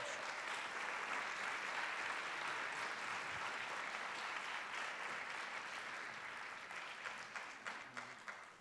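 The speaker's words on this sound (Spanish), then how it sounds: "Un aplauso." An audience at a Venezuelan panel event applauds as a panelist is called up, a faint, distant wash of clapping that runs steadily for several seconds before tapering off at the end.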